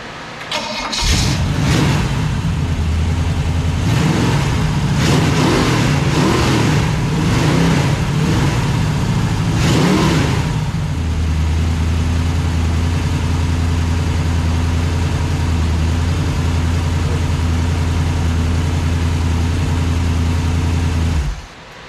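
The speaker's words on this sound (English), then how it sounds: "we'll go ahead and fire it up." A 350 small-block Chevrolet V8 engine cranks and catches, revving loudly in several sharp bursts, then settles into a steady, rumbling idle up close.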